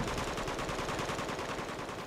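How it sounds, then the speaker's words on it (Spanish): Teammates' automatic gunfire in the Uncharted 2 online team deathmatch on the village map, a dense, rapid, continuous rattle of shots, loud and steady throughout with no talk. "Compañeros están disparando."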